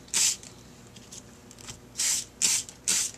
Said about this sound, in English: I'm going to take a regular squirt bottle full of water, like that, and I'm going to spray them down